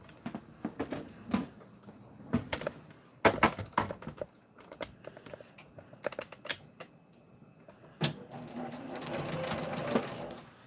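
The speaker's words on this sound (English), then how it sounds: "we're going to go back over to the sewing machine and we're going to top stitch this" A sewing machine top-stitching a fabric face mask whirs in short, uneven bursts, stopping and starting as it stitches, with a few soft clicks in between.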